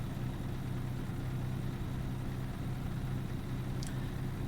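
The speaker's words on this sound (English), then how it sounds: "I feel bad just wrapping the engine out, just revving it to the moon." Diesel truck engine in American Truck Simulator, a steady low droning hum held at constant level rather than clear revving, with a brief faint chirp near the end.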